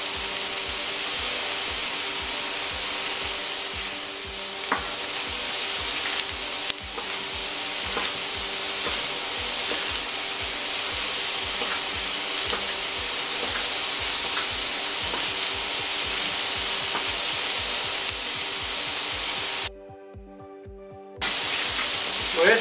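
Vegetables sweating gently in a pot for a rustic beef shank and vegetable broth, giving a steady close hiss and crackle that runs on evenly, with a brief quiet gap near the end.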